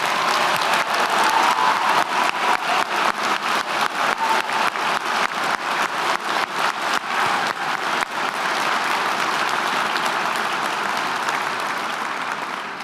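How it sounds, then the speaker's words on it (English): A graduation ceremony crowd gives a big round of applause for the new polytechnic graduates, dense clapping that turns into rhythmic unison clapping for several seconds before easing back into loose applause. "Can I please have one big round of applause for all of our new graduates?"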